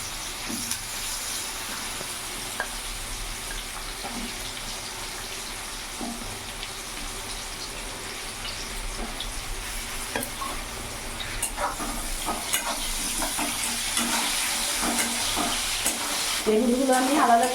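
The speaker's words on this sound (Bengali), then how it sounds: "এরই মধ্যে আমি কেটে রাখা বেগুনগুলো ভেজে দেবো।" Cut eggplant pieces fry in a pan for a mixed-vegetable cauliflower-leaf chorchori, a low steady sizzle with scattered small pops that grows louder and busier toward the end.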